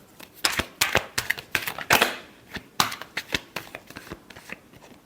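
Tarot cards shuffle by hand in a string of sharp riffling snaps and slaps, irregular bursts of crisp papery clicks close up, with one longer riffle in the middle.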